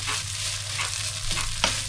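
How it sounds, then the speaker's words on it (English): Onions, celery, garlic and a little chilli stirred in a frying pan for savoury mince, a steady sizzle with a few scraping strokes and one sharper clatter near the end, close and alone. "Give this a quick stir."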